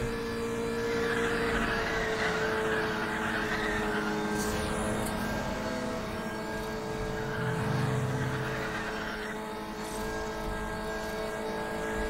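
A car engine in the racing video game Need for Speed The Run revs continuously, its pitch swinging up and down through gear changes under a steady road roar, moderately loud with no talk over it.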